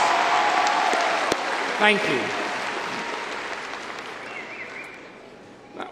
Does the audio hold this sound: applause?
yes